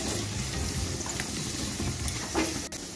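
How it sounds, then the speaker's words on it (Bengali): Ginger, garlic and onion fry in a pan over a low gas flame, giving a steady, soft, even sizzle with no voices. "এখন আমি গ্যাসটা লোতে রেখে আদা রসুন পেঁয়াজটা 2 মিনিটের মতো ভেজে নেব।"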